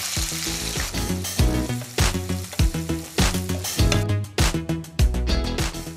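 Cubed onion and capsicum hit hot oil for kadai chicken, giving a loud, steady sizzle with repeated sharp bursts and scraping stirs throughout.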